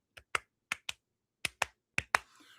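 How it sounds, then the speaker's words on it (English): A soft golf clap of eight sharp, separate hand claps in an uneven rhythm, close and quiet, ending in a faint brief rustle. "golf clap"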